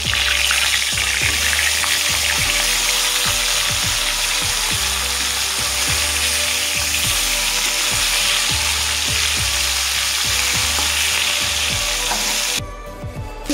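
Pieces of katla fish frying in oil in a pan, a steady close sizzle with repeated light clinks and stirring taps from a utensil, no voices.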